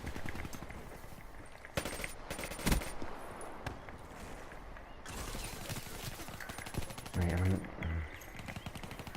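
A PPSh submachine gun fires in Black Ops 3 in rapid, repeated bursts, sharp and close, mixed with game noise and a louder rumbling stretch near the end, while someone talks over it.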